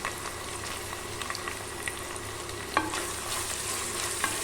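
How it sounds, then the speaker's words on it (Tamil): Onions and curry leaves sauté for chicken varuval in a clay pot, giving a constant, gentle crackling sizzle with a few faint clicks of stirring. "இது நல்லா இதெல்லாம் வதங்கி வரட்டும்."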